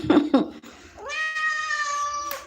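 A cat meows: two short chirping calls open, then one long, clear, drawn-out meow holds steady for over a second before ending with a brief rise, close and loud, with no human voice.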